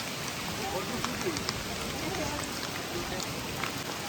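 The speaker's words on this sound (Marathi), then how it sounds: "पाऊस पण खूप जोरात चालू आहे." Heavy rain falls steadily through a forest on a trek, a dense continuous hiss with scattered drop patter close by, lasting throughout at moderate level.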